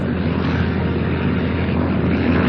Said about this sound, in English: the tiny planes would rev their engines as they hung from a metal bar called the trapeze